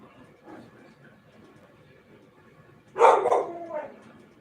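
An aggressive dog gives a sudden, loud bark and a second shorter one near the end, following a stretch of quiet room noise.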